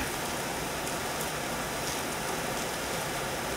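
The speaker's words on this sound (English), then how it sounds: "And it is raining, obviously." Steady rain falls on Bayou Liberty on a stormy morning after a front passes, an even, continuous hiss with no other sounds standing out.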